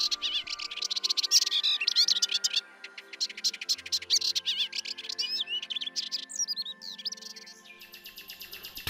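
Common nightingale singing from dense urban thickets, a varied run of fluty whistles, trills and rapid chirps in bursts with short pauses, fairly close and clear, with no talking.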